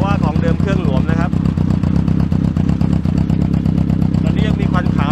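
A rebuilt Honda CB750F engine with new pistons, rings and cylinder block, still running in, idles with a rapid, even, throbbing beat close by, while someone talks over it throughout.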